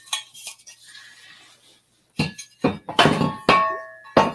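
Cast iron skull baking pans handled and set down, giving a few hard clanks and knocks in uneven bursts after a quiet start, close and loud.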